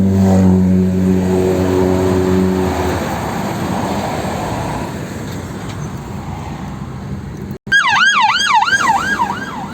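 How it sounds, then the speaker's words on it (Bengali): An ambulance siren on a road bursts in loudly near the end with a fast rising-and-falling wail, after a steady rumble of car and traffic noise heard from inside a moving vehicle. "অ্যাম্বুলেন্স যাচ্ছে"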